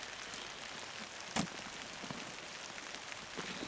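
Rain falling outdoors, a steady soft patter of drops on surfaces close by, even and unbroken throughout with one brief sharper tap near the start, and no voices.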